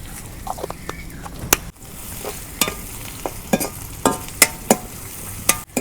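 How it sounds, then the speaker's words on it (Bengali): Cumin seeds fry in hot oil in a pan for a village-style chicken and bottle gourd curry: a soft steady sizzle nearby, punctuated by sharp clicks and scrapes of a stirring spoon. "এখন আমি কয়টা জিরা দিয়ে দিই"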